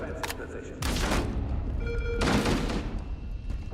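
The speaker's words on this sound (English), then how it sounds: "Is that you guys shooting me?" Rapid gunfire and booming bursts from a multiplayer shooter video game come in two loud waves, with players' voices chatting over the action.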